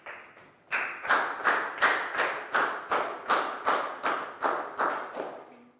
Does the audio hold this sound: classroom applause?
yes